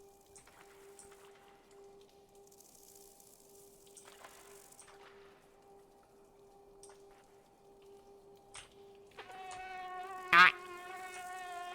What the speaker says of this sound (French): À quel moment est-ce que c'est utile pour le moustique de faire du bruit?